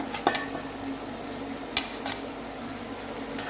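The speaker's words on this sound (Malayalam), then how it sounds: "ഇതിലേക്ക് പച്ചമുളക് രണ്ടെണ്ണം അരിഞ്ഞ് വെച്ചത് ചേർത്ത് കൊടുക്കാം" Two chopped green chillies are stirred into a frying pan of already-cooked tomato, with a steady sizzle and a few sharp scrapes of the spoon against the pan.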